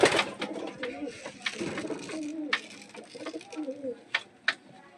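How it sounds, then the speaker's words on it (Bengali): At a Kolkata bird market, pigeons peck at mustard seeds and coo in low, rolling calls, with a person talking nearby and scattered sharp taps and clicks. "এই যে দেখো অল্প কটা পায়রা খাচ্ছে"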